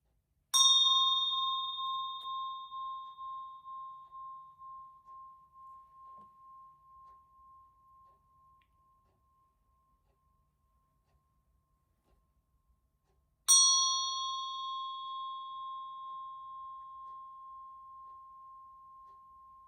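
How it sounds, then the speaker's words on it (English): A handheld bell kept at home for special occasions rings twice, each clear metallic strike decaying slowly into quiet before the second ring sounds out, with nothing else around it. "she'd bring out her bell"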